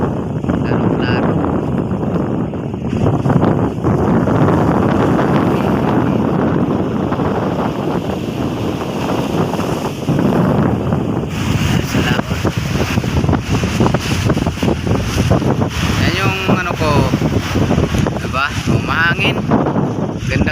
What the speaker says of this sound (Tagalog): Mahangin. Ganda kasi ng hangin guys ng dagat.